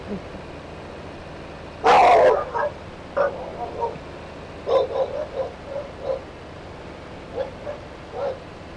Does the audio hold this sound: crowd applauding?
no